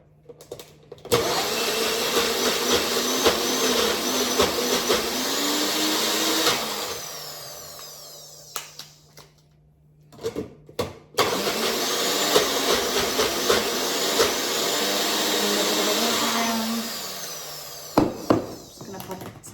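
A kitchen blender whizzing soft fish, tuna, sardines and rice for cat food runs loudly in two long bursts with a short pause between them.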